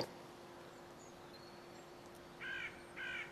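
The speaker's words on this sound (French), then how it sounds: "J'ai placé quelques sons de corbeaux un peu partout qui évoquent effectivement l'inquiétude" Two distant crow caws, evenly spaced about half a second apart, rise from a hissing ambient background in a horror film Sorcière.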